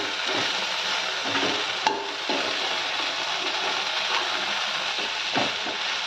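Okra being stirred with salt and turmeric in a pan for a Telugu bendakaya fry, a steady close sizzle with scraping stirs and a couple of sharp utensil knocks, no voices.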